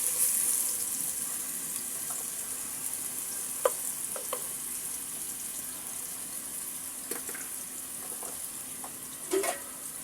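Onion paste fries in hot oil for a home-style chicken curry, a faint, steady hiss running throughout, broken by a few soft clinks of a utensil against the pan.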